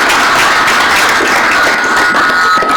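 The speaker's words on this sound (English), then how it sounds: "Let's welcome Mr. Kapoor with a huge round of applause." A conference audience greets a speaker with dense, loud applause, a continuous wash of many clapping hands lasting the whole stretch.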